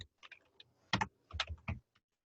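Keys clack on a computer keyboard as a single word is typed, a quick uneven run of close, crisp taps in short bursts, quiet with no talking.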